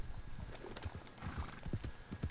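Horses in the Red Dead Redemption 2 game, a close, uneven patter of hoofbeats clip-clopping with occasional snorts and whinnies mixed in, and no talk over it.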